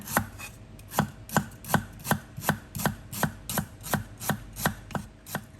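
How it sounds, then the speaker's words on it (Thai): A knife thinly slices galangal on a cutting board, about a dozen crisp, evenly spaced strokes close by, with no talking. "นี่คือขาแก่นะ เราก็จะหั่นเป็นแว่นเล็กๆ บาง ๆ"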